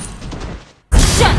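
Layla's golden bullet shot in the mobile game Mobile Legends fires as a loud, sudden crack after a brief lull, followed by a bright, sustained blast that fills the remaining moment.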